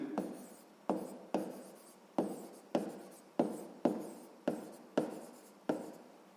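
Pen or pencil writing by hand during a sixth-grade maths exercise, close and fairly quiet, about nine short strokes repeating at a steady rhythm with no talk.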